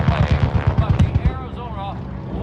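Rapid anti-aircraft gunfire from a Pearl Harbor attack recreation, aimed at Val dive bombers near the battleship Nevada: a dense run of low booming bursts for about a second, then fading under a rumbling mix with voices.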